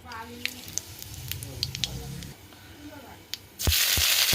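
Black cumin seeds hit hot oil in a pan after fish has been fried for a pabda fish curry, and a loud, sudden burst of sizzling follows quieter kitchen clatter and a voice.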